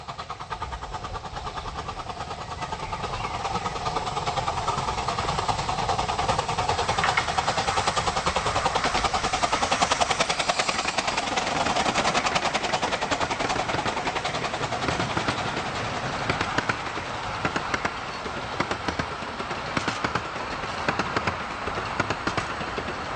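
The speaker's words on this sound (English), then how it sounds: "The pull out of New Romney towards Church Lane Crossing is a good place to hear locos working hard" Two Romney Hythe & Dymchurch Railway steam locomotives double-heading out of New Romney toward Church Lane Crossing, working hard on the climb with a continuous, rising rumble and chuff that builds and stays loud.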